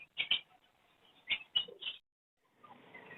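Pigeons and doves at a bird market, with a few soft, close calls in short clusters and some faint background chatter near the end.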